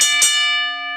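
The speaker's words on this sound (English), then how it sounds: "just ring the bell" A single bell is struck and rings out clearly, its bright tone sustaining and fading slowly across the moment.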